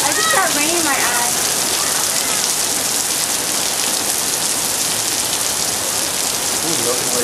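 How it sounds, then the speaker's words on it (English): Heavy rain pours in a steady, dense hiss across the whole stretch, loud and close, with people talking and exclaiming over the downpour. "Oh, it hasn't rained like this since 2005."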